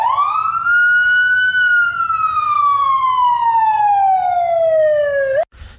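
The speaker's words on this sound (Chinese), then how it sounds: "这个比较典型的一个警车开动的一个声音" A police car siren sound effect wails loud and alone, one long tone that rises quickly, then slides slowly downward over several seconds before cutting off abruptly.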